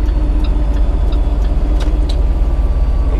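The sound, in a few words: truck engine brake (Jake brake) on a downgrade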